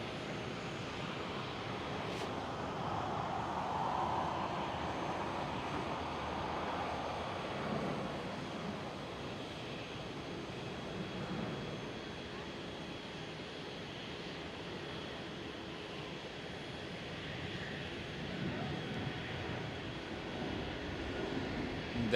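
A KLM Boeing 777-300ER passes at Amsterdam Schiphol airport, its jet engines producing a broad, steady distant roar that swells gently and stays even for over twenty seconds with no one speaking.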